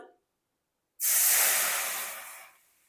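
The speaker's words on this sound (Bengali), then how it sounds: "এখন কড়াই বসিয়ে দিয়েছি, কড়াইয়ের মধ্যে দিয়ে দিব জল" Water poured into a hot wok erupts in a sudden loud hiss of steam after a moment of silence, holding steady for over a second before fading away.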